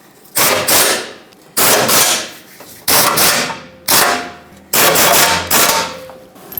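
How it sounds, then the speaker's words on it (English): Power tool snugging up 15mm bolts on the idler arm of a 2007-2014 Chevrolet Silverado 2500 HD, five loud buzzing bursts of about half a second to a second each, separated by short pauses, close up and alone. "Snug up all 4 15mm headed bolts."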